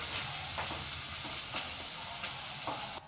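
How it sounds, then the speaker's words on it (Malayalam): Thazhuthama greens and curry leaves are stirred in a hot pan, with a soft, steady sizzle and rhythmic scraping strokes about every half second, close by and without talk. "ഇത് നന്നായി ഇളക്കി കൊടുക്കാം."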